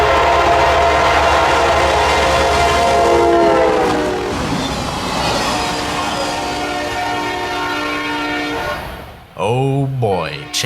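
CSX geometry train on the Florida A-Line passing close by, a loud sustained horn blast over rumbling rail noise, the horn tones shifting as it goes by, then a second sharp horn burst near the end.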